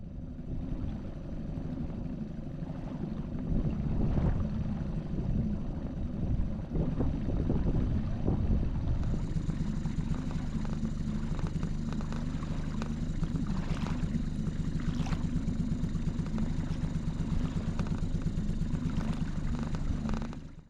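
An outboard motor idles at tick over on an inflatable Ka Boat while trolling, making a steady low drone with wind noise over the microphone and light water sounds.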